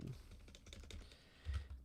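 Quiet clicking of keys on a computer keyboard, a quick patter of taps that rises briefly near the end, faint and close, with no one talking.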